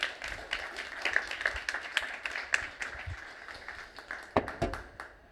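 Scattered, faint applause from an audience at a producers' project-pitching event, heard as irregular light hand claps spread over several seconds at a distance.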